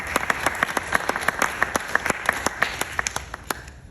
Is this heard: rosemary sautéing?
no